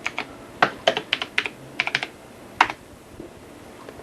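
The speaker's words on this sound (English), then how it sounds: "Typing with one hand is not the most fun thing in the world." Keys clack on a computer keyboard typed with one hand in short irregular bursts, a few quick taps at a time with pauses between, close and fairly quiet.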